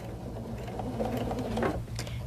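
A Pfaff sewing machine stitches through a quilt, giving a steady, close mechanical whir with rapid needle patter that runs unbroken for a couple of seconds.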